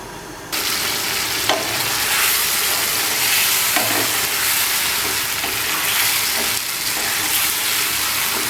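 A Hilsa fish curry with potato and brinjal bubbles and sizzles in a pan as it is stirred. A continuous loud frying hiss runs throughout, with occasional scraping clicks from the stirring.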